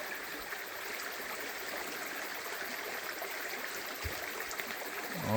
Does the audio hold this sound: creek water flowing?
yes